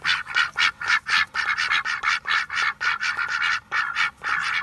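Homestead ducks quack in a rapid rhythmic series of loud nasal calls, close by and repeating steadily from start to end with no talk.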